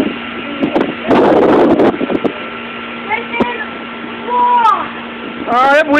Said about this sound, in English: Oh, that wind's too heavy.